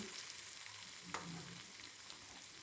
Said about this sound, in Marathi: आता त्याच्यामध्ये बारीक ठेचलेला लसूण टाकते लगेच मिरची पण टाकून घेते आणि छान हलवते